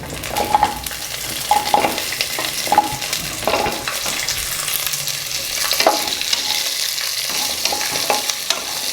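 Small onions (shallots) sautéing in a pan for Chettinad egg curry, a steady close sizzle with occasional scrapes and stirs of a spoon, no voice.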